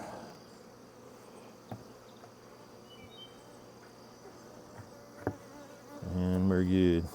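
Honeybees buzz steadily around hives given Apiguard mite treatment, a low constant drone with a few brief knocks, swelling into a loud close buzz near the end as a bee passes the microphone.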